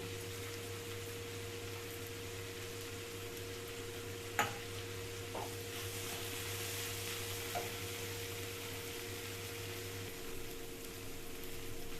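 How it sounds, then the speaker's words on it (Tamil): Radish and tomato sautéing in a pan for radish chutney, a steady low sizzle running throughout with a few brief utensil clicks and stirs, fairly quiet and without voices. "முள்ளங்கி தக்காளி எல்லாமே நல்லா வதங்கிடுச்சு."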